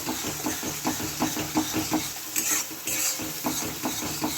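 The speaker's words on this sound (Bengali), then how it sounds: "ধনে গুঁড়ো দিয়ে দিচ্ছি এক চামচি দিয়ে এটাকে ভালো করে নাড়াবো" Potato and egg fry seasoned with coriander powder being stirred in a sizzling pan, rhythmic scraping strokes of a utensil repeating about twice a second over a constant frying hiss.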